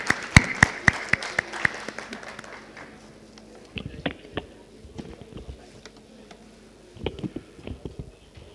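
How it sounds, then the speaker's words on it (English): Audience applause welcoming a speaker to the podium at a road safety and transport technology conference, a burst of clapping in the opening seconds that fades into sparse scattered claps and room noise. "Please welcome him to the podium with another round of applause."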